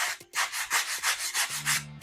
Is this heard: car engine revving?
no